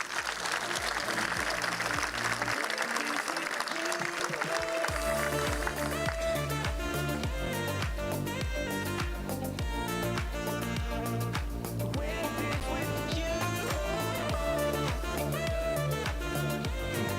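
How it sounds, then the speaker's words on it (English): A school capping ceremony crowd applauds the coaching staff with sustained, dense clapping that runs the whole stretch, mixed with loud rhythmic music and a thumping beat. "Please give them a round of applause."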